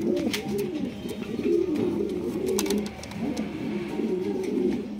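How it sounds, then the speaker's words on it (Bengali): King pigeons cooing steadily in a loft, several birds overlapping in continuous low, rolling coos that fill the clip with no talk. "দেখছেন একদম মুন্ডি সাইজের আপনারা কিং কবুতর নিতে পারবেন"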